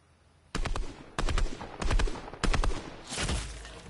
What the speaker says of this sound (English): No, I got sniped.